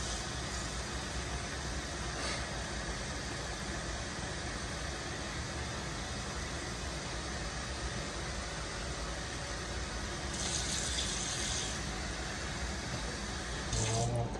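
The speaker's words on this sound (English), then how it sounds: "we're just gonna put basically some water in the pot" Water runs steadily from a tap into a pot for cooking rice, a constant hissing rush lasting about fourteen seconds with a brief brighter splash near the end.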